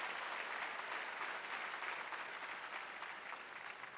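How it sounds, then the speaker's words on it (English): A crowd at a faith leaders' rally for paid family leave breaks into applause for a congressman, a sustained wash of clapping that holds steady and tapers slightly toward the end. "Congressman Jeffries, let's give him a round of applause, because he's doing a great job"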